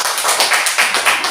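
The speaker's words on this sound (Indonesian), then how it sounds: "kita sambut Nabi Amos dengan tepuk tangan" A classroom audience claps to welcome a presenting group, a brief burst of dense, close applause with overlapping hand claps.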